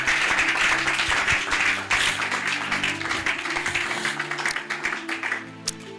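A church congregation applauds to acclaim the Lord, with a dense, sustained burst of clapping that gradually thins into scattered, uneven claps. Close and lively, with no talk over it.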